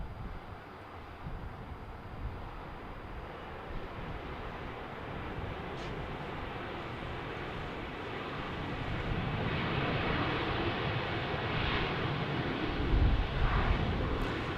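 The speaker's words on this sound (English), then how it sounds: "So this is a nice 737-900 Delta Airlines Boeing product." A Delta Airlines Boeing 737-900 airliner at Portland airport, a broad steady jet engine roar that swells louder toward the end, heard from a distance outdoors.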